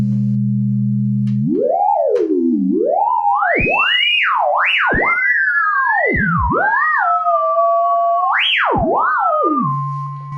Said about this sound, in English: you hear that we basically get ring modulation.